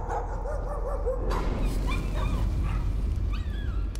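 A dog in the Layers of Fear horror video game barks and whimpers, short yips and whines rising over a dense low rumbling ambience, fairly close and loud.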